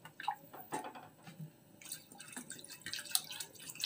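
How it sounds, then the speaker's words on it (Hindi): Water is poured into a cooking pot in a home kitchen, giving irregular close splashes and drips over about four seconds with no talking. "तो अभी थोड़ा सा पानी और इसमें मिला देती हूँ क्योंकि पानी कम लग रहा था।"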